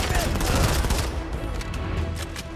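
Rapid gunfire from a first-person shooter, Modern Combat 5, crackles in a dense burst of shots at close range, loud and fairly continuous before thinning toward the end.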